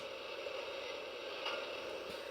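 A Lionel G gauge model train running on its track gives off a faint, steady mechanical whir with light ticking clicks from its gears.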